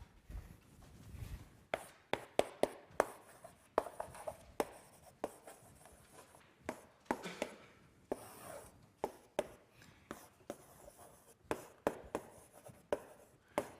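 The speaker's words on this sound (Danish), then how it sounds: "Så nu skriver jeg udtrykket op." Chalk or marker writing an expression on a board during a math lecture on Banach spaces, a run of quick taps and scratchy strokes at an irregular pace, with no talking.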